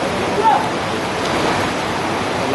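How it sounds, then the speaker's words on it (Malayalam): Floodwater of a swollen river after a landslide in Wayanad, Kerala, rushes past in a constant loud broadband roar, with a faint voice briefly audible. "ആ ലെവലിലാണ് ഇപ്പോൾ വെള്ളം ഒഴുകുന്നത്"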